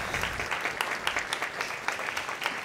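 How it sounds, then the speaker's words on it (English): A crowd applauds steadily, dense clapping filling the whole stretch at an even, loud level without pause. "a big round of applause"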